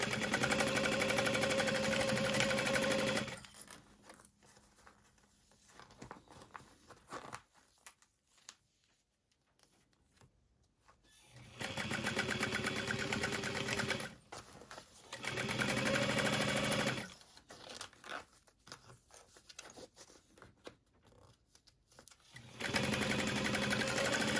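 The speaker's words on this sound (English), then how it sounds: "So as I'm sewing around this gusset, increasing the seam allowance into the bottom." Sewing machine stitching around the gusset seam at the bottom of a crossbody bag: loud steady whirring bursts of stitching, each several seconds long, with quieter pauses between them.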